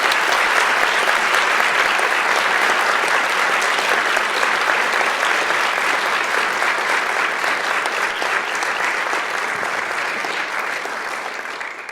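Audience applause welcoming a keynote speaker at a 2015 student convention in Austin, Texas: a dense, sustained round of clapping from a large crowd lasting the full stretch and tapering slightly at the end.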